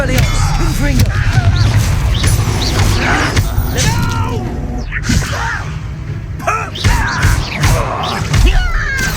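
Confringo blasting curse cast in Hogwarts Legacy: loud explosive blasts and crashing impacts burst out again and again amid busy combat clatter.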